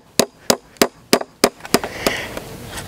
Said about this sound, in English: so I'm just gonna hammer them in.